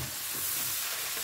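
Mushrooms fry in a pan over a modest gas flame with a steady, dense sizzle that stays loud and even throughout, with no talking.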